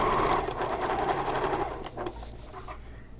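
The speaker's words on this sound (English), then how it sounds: "Sewing over that corner without being crooked, then just sew up to a point." A sewing machine stitches across the fabric corner of a messenger bag in a steady, close hum of rapid stitching that eases off partway through, followed by a few quieter handling sounds.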